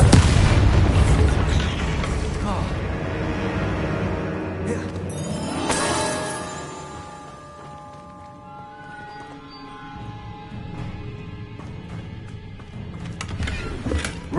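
Deep booms and blasts from Bombarda explosion spells in Hogwarts Legacy roll out continuously under layered game music and effects, loudest at the start.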